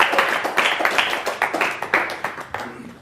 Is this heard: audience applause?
yes